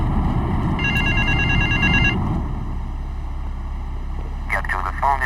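A payphone rings in South Belleville Park in the 2001 video game Grand Theft Auto 3, two bursts of electronic trilling, the first over a loud rumbling vehicle-like drone and the second after it quiets, with speech mixed in.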